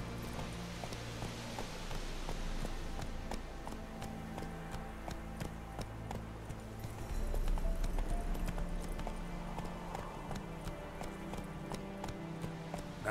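Roach, the horse in the open-world game The Witcher 3, gallops with a steady, rapid clip-clop of hooves throughout, close and fairly quiet, the rhythm briefly heavier partway through.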